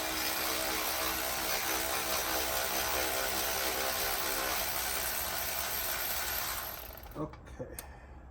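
Rapid, dense ratchet clicking from a wrench turning the belt tensioner bolt on a 2011 Mercedes C350, close and steady for several seconds before stopping abruptly, followed by a few faint taps.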